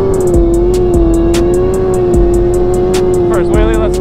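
An engine revs loudly and close at a street bike event, a steady high drone broken by quick throttle blips, with crowd noise and a person talking underneath.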